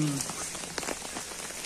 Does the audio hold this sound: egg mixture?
no